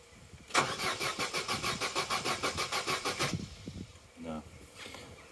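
A Vauxhall Corsa B's starter cranks steadily for about three seconds in a rapid rhythmic churn without catching, followed by a brief sputtering attempt to fire, close to the mic with a voice speaking briefly.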